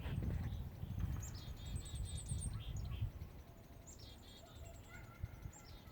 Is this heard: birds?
yes